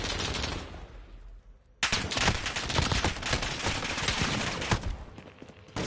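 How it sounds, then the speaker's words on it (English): Rapid bursts of automatic gunfire crackle loudly and close in Call of Duty: Warzone on PS5, dense rattling volleys running for several seconds after a brief quieter lead-in. "Who's shooting at me, man?"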